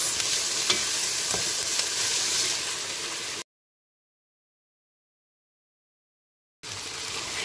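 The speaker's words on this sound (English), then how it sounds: "And stir fry them for 3 to 5 minutes." Chicken and vegetables with red, green and yellow capsicum stir-frying in a pan, a loud, steady sizzle with scrapes of stirring that cuts out to silence partway, then resumes.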